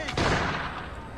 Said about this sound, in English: Oh, we got gunshots.